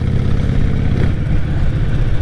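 A motorcycle engine revs steadily with a deep, rumbling exhaust note, loud and close, holding a constant throaty drone throughout.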